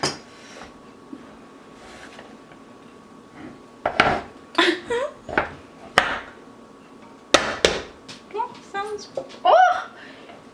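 Several sharp knocks and clatters on a pan as a vegetarian lentil meatloaf is loosened and flipped out of its pan, with brief bursts between quieter gaps and a voice talking nearby.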